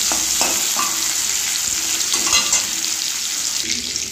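Red spinach and shrimp fry in oil with a bright, steady, close sizzle, interrupted by soft stirring knocks and scrapes, with no voices.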